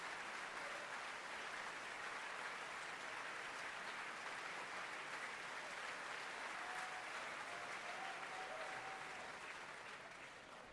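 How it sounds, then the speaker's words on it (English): Sustained audience applause after a ballet performance at Covent Garden in London, dense continuous clapping from a large crowd, faint and distant, slowly fading at the end. "with the applause still ringing out here in London"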